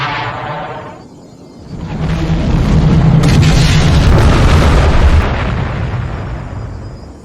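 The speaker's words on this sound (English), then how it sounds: "a bright beam of green light leapt from its radial cannon and incinerated an entire rebel cruiser" A cinematic explosion as a rebel cruiser is incinerated by the green beam of the Death Star in a Star Wars space battle. A deep boom swells into a loud, sustained roaring blast that slowly rumbles away.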